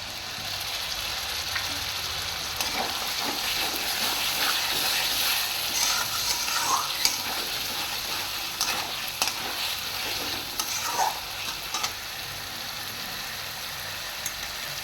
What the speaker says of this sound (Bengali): আদা রসুনটা পাঁচ মিনিটের মতন আমার কষিয়ে নিয়েছি আমি এর মধ্যে কাঁচা লঙ্কা পেস্টটা দিয়ে দিচ্ছি